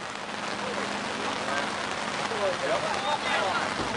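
Heavy rain pouring down outdoors at a bass fishing tournament weigh-in, a dense continuous hiss of drops pattering on surfaces, steady and close, with faint voices beneath.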